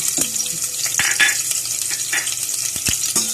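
Onion and garlic sautéing in a pan for sinigang sa miso, a bright continuous sizzle broken by sharp clicks and scrapes of a utensil stirring against the pan.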